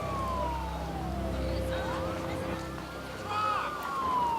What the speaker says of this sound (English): The sirens that you can hear in the background are really ruining this.